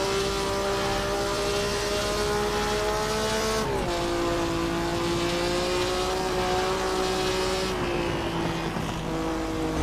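A race car in the Assetto Corsa racing game screams along at high revs, its engine note holding steady and then dropping twice as it shifts gears, loud and continuous with no talking.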